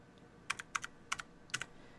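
Keys typed on a repaired Apple IIc computer keyboard, a quick run of about eight crisp clicks in short pairs, close and clear against a quiet background with no talk.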